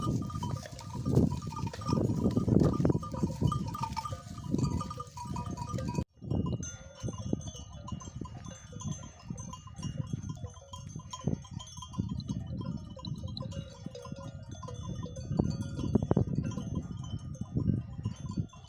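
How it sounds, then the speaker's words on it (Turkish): Sheep bleating and moving about outdoors as they graze, with a steady rustle and low rumbling ambience throughout; no talking. "Koyun burada kendi başına döne döne yayılır."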